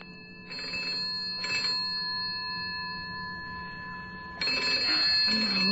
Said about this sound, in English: Oh, who can be phoning at this time of night?